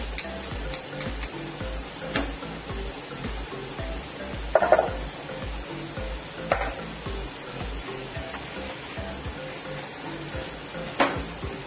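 Ginger-chili paste going into a hot pan for capsicum rings, giving a steady, soft sizzle with scattered stirring clinks and a brief louder hiss burst partway through.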